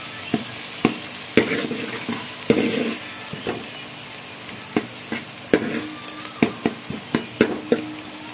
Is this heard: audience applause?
no